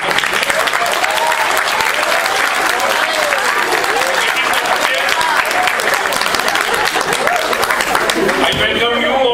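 A large audience at an inaugural session of an anti-corruption speech competition breaks into a sustained round of applause, dense and loud throughout, with crowd murmur and some voices mixed in before it thins at the end.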